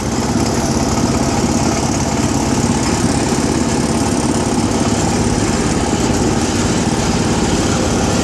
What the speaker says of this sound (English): you could go drive garden tractors around